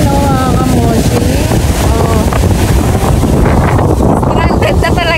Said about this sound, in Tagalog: Grabe talaga yung alon